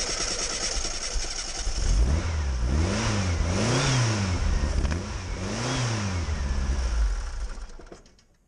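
A fuel-injected Volkswagen Beetle, idle for nearly a year, cranks and catches, then its air-cooled engine revs up and down in three or four loud, close rising-and-falling surges before cutting off.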